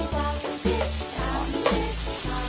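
Shrimp and garlic stir-fried in a pan over low heat, giving a steady close sizzle with rhythmic scraping pulses of the spatula roughly every half second.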